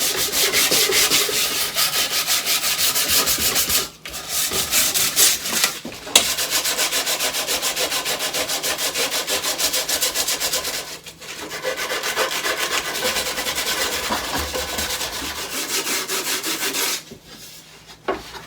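An antique aluminum Gulf gas station sign is rubbed to remove white corrosion, producing a steady, close scrubbing and sanding sound that runs nearly continuously with a few brief pauses.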